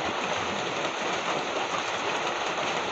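Steady rain falling on a rainy morning, a dense, even hiss that continues unbroken and fairly loud throughout, with no voices.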